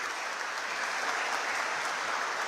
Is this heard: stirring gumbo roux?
no